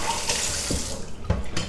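Tap water runs steadily into a sink while something is rinsed and washed, a continuous splashing flow heard up close with brief louder clatters and no talk over it.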